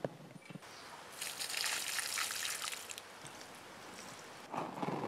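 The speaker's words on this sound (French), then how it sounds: "À la plantation, j'arrose l'équivalent d'un demi-arrosoir." A watering can pouring water onto a newly planted ornamental grass, a steady splashing trickle that swells for a few seconds, fades, then briefly returns, close and quiet.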